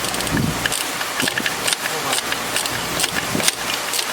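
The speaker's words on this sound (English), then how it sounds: "Battery operated ratchet with a swivel socket" A battery-operated ratchet with a swivel socket snugs up a starter bolt on a 2015 Honda Accord, giving rapid, close, rhythmic mechanical clicking and whirring bursts throughout.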